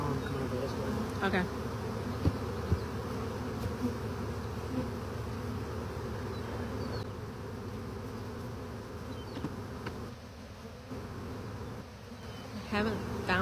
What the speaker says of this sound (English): With a swarm this big, I'm kind of wondering if there's not multiple queens in here